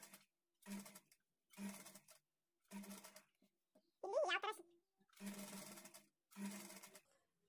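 A sewing machine stitches a high neck blouse in short bursts of rapid whirring, about six runs separated by pauses, with one brief higher chirping sound in between; close and fairly quiet, with no talk.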